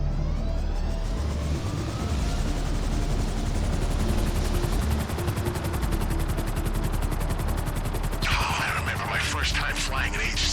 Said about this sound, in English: Flying an agency helicopter.